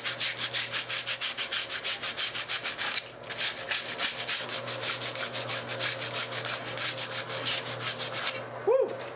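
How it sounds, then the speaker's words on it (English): Rust being sanded off a wheel rim from a neglected Datsun 280ZX that sat for 15 years: steady, rapid back-and-forth rasping strokes, loud and close, running almost the whole time with one brief pause and no talk. "So first thing we're going to do is sand it."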